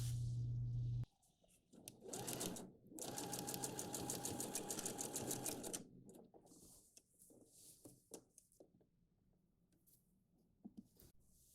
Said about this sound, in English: So if you do the first stitch closer to the edge,